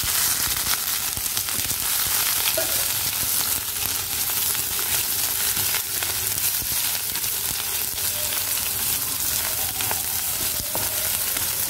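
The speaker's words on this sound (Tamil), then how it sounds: "இப்போ இஞ்சி பூண்டு வந்து நம்ம போட்டுக்கலாம்." Ginger and garlic sizzle and crackle steadily in hot oil in a pan, a dense continuous frying hiss with small pops throughout, close and fairly loud with no talking.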